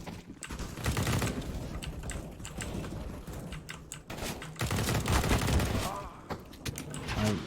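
Gunfire in a shooter video game, rapid bursts of shots and clattering mechanical clicks coming in clusters, moderately loud, with a voice speaking now and then over the action.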